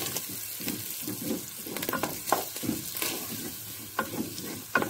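Meat stirred with tomato paste in a pan gives a soft bubbling fry punctuated by rhythmic scraping strokes of a spoon, steady and close with no talking.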